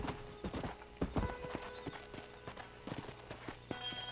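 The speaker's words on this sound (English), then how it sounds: "Now, there is a horse here" Horse hooves clip-clopping in the video game Red Dead Redemption, a brisk run of close, moderately quiet hoof strikes over a faint ambient hum.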